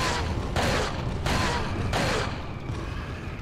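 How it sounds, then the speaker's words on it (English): Three evenly spaced loud shots from the player's cheater gun in the video game Resident Evil 4, each followed by a short ringing tail, over a low game background. "Here's my cheater gun."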